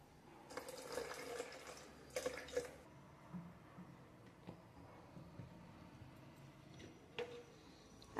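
Half a cup of milk and a little water are poured into blended carrot juice, giving faint, soft liquid pours and splashes in a couple of short bursts, followed by quiet handling noises and one more brief splash.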